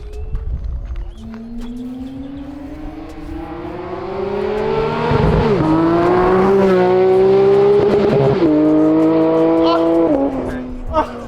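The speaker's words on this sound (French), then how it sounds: "Le rupteur Porsche approuve" A Porsche engine revs up in a long rising howl, close and loud, then repeatedly bounces off the rev limiter with stuttering cuts before dropping away.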